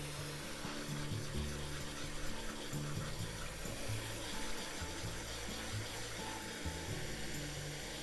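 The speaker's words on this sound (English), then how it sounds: "Releasing cold water." Steady broadband rushing of cold water running from a kitchen tap to rinse drained spinach fills the clip, a continuous loud pour with some clattering texture mixed in, no talking.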